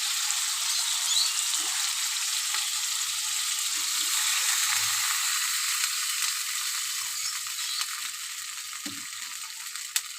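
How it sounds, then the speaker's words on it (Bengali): Tilapia fish curry with ridge gourd and potato frying in a pan, a steady hissing sizzle filling the whole stretch with faint clinks of a spatula and small bubbling pops, close and continuous, no voices. "এবার আমি জল দিয়ে দেবো পরিমাণ মতো।"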